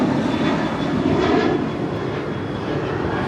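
A United Boeing 737-900ER departing LAX for Seattle produces a strong steady jet roar with a faint high whine, briefly swelling then easing slightly, heard alone without speech.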